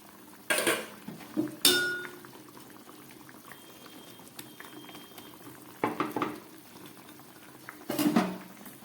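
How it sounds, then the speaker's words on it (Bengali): Vegetables bubble in a pot of fish curry as fried fish is added, with low simmering broken by several loud bursts of clinking, splashing and pot noise at intervals. "সবজিটা ফুটে উঠেছে এবার আমি ভাজা মাছগুলোর মধ্যে দিয়ে দিচ্ছি"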